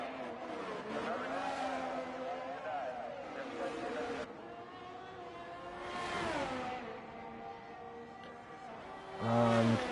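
Race car engine from a racing video game at Baku, its pitch rising and falling through gear changes on an out lap while the driver weaves to warm the tyres, heard steadily under ongoing commentary.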